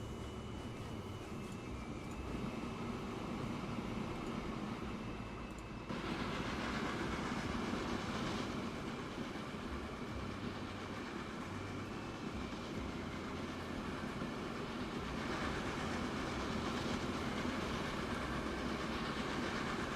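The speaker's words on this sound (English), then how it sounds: "This is getting to be a pretty old train. It's 30 years old." A 30-year-old coal train in Transport Fever rolls along steadily, with a continuous rumble and rhythmic clickety-clack of wheels on rails, moderately close and with no voices.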